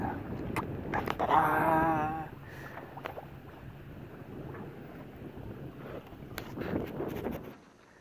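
A sailboat under sail in wind at Brest harbour: steady wind rush and low hull and water noise, a brief creak or whine near the start, faint and continuous, fading out at the end.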